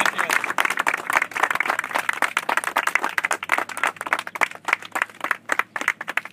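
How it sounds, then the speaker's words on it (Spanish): At the inauguration of a water project in Chula Vista, a small audience claps for several seconds, with uneven, distinct individual claps rising and falling close by rather than blending into a smooth roar. "hay que dar cuando menos unos 10 segundos de aplausos"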